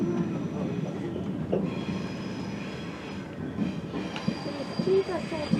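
A TGV high-speed train runs on rails, with loud continuous rumble, rattling and faint wheel squeal, close and steady.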